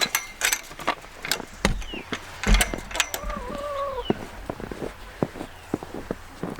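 Baby chicks cheep in a few short, thin bursts in a snowy chicken coop, partly buried under close thumping footsteps and scattered knocks.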